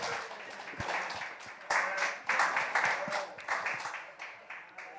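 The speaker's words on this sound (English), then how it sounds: "Please give a round of applause to our very own Dan." An audience applauds a speaker with a moderate burst of clapping that swells in waves and tapers off, with voices mixed in underneath.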